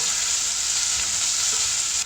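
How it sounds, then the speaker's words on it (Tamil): Sliced onions fry with a little salt in a pan for a Chettinad-style mushroom biryani, giving a loud, steady, close sizzle that runs without a break and drops slightly at the end. "இப்போ ஒரு பக்கம் வெங்காயம் நல்லா வதங்கட்டும்."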